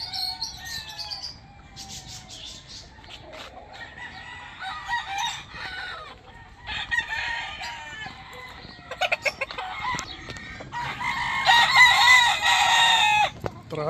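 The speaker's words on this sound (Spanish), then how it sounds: "Área de los pollos." Chickens cluck and chirp around a hacienda farm's poultry area while a rooster crows loudly near the end, with overlapping bird calls and no talking.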